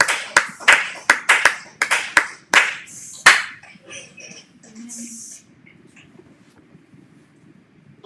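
A church congregation claps in a quick rhythmic burst of about a dozen sharp, distinct hand claps, then the clapping stops and gives way to quieter murmuring and room sound.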